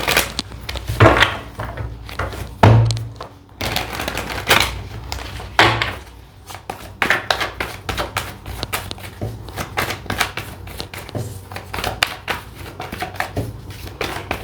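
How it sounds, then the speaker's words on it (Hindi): A deck of tarot cards is shuffled close up in a series of quick riffles and soft flicks with papery taps, all irregular and fairly loud, with no speech. "चलिए एक डेक हम क्लैरिफिकेशन के लिए शफल करके रख लेंगे।"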